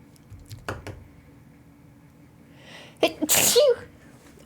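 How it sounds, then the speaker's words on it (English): A single sneeze, sharp and fairly close, bursts out after a few seconds of quiet with faint small noises, followed by a brief breathy tail. "I need to sneeze though."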